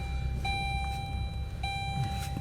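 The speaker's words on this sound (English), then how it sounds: "Quit dinging, car." Two evenly spaced electronic dings from a car's warning chime sound inside the cabin, each a clean sustained tone over a steady low rumble of the vehicle interior, with no talking.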